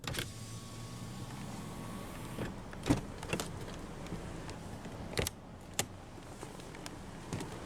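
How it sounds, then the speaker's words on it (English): A power window rolls down on the driver's side of a 2021 Toyota RAV4 Adventure, a low electric motor hum heard near and fairly quiet, with a few sharp clicks and knocks around it. "roll down the driver's window"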